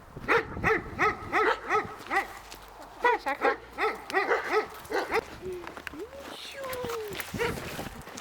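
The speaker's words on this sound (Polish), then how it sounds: "piesek na nas szczeka" A small dog barks in quick, close bursts of sharp yaps, followed by a few whimpers.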